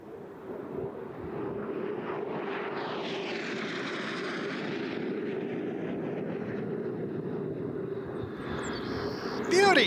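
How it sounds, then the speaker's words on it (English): A jet aircraft performing at an air show passes overhead in a steady, sustained engine roar with a slow rising and falling whoosh, heard outdoors at moderate distance before a brief louder burst at the end. "we're just going to let you listen and watch this amazing jet"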